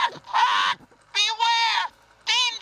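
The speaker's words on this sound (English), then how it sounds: "Jeff brought this black crow that talks, and Don is just amazed with it." A talking black crow toy plays through its speaker in three loud, harsh, buzzy electronic bursts separated by short pauses, a caw-like synthetic voice heard up close.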